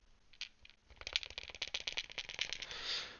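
A light plastic airsoft AK-74M rifle stock rattles and clicks as it is wobbled side to side, a quick run of small knocks that builds into a brief buzzy shake.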